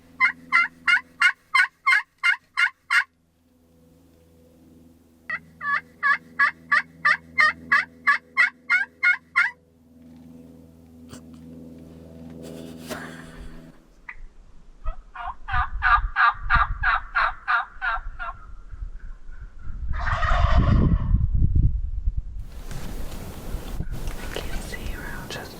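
Wild turkeys gobble in repeated loud bursts at a turkey hunt, three clear rattling volleys followed by fainter calls, with soft whispering voices and rustling near the end.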